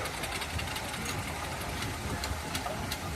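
Steam traction engine running at a Torbay steam rally, a steady mechanical chugging and knocking rumble with faint rhythmic beats, heard at moderate distance amid broad outdoor noise.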